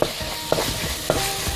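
Sauce being stirred in a frying pan for red rice, a soft steady sizzle broken by three or four sharp scrapes of a spoon against the pan, close and alone with no voices.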